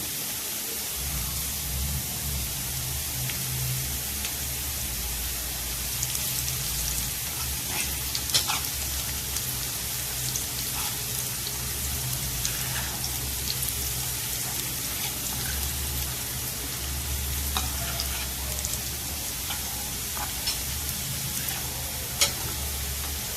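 Garlic frying with onion in a pan, a steady close sizzle with light crackles and occasional stirring scrapes, no talking.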